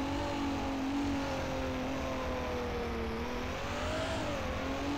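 A vehicle in the Rigs of Rods driving game pulls away in a parking lot, its steady engine drone holding a smooth tone that rises slightly and wavers over several seconds, continuous and fairly loud with no talk.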